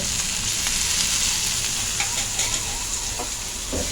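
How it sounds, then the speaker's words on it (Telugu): Ginger garlic paste sizzles and fries in a hot pan for veg fried rice. A loud, steady crackle runs throughout, with a few soft scrapes of stirring near the end. "మనమైతే అల్లం వెల్లుల్లి పేస్ట్ అయితే వేసుకోవాలి"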